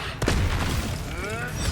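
Bombarda blasting spell from Hogwarts Legacy going off as one heavy boom with a sharp onset, then a rumbling tail and some magical shimmer. Battle sounds fill the background and a voice can be heard briefly.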